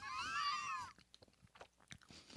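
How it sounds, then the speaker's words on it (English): Someone chewing a cricket-protein energy bar studded with almonds: a burst of close crunching at the start, then quieter irregular chewing and mouth clicks. "as you crunch down on the almonds"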